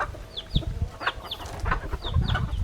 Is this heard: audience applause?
no